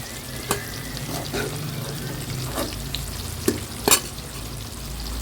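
Brinjal pieces frying in oil for an Andhra-style curry, a steady moderate sizzle with several sharp clinks and scrapes of a spatula, two of them close together near the end.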